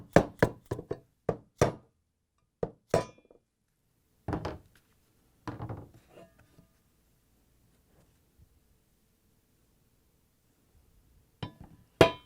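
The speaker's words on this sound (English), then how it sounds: "Clean the seat using the flatbed screwdriver and the mallet." Sharp, hard knocks of a mallet driving a flat screwdriver to knock out an old appliance cover seal on a Whirlpool, KitchenAid or Maytag unit, in quick bursts and scattered single strikes separated by silence.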